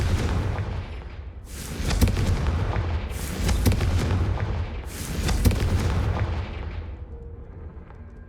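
Confringo fire spells cast in Hogwarts Legacy burst as a series of three or four loud whooshing booms with crackling tails, spaced a couple of seconds apart over a rumbling game background.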